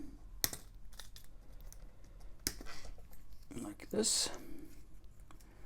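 Cutters snip through a cable inside an Amiga 3000 computer, a few sharp, close clicks spaced across the moment, with a person talking over them.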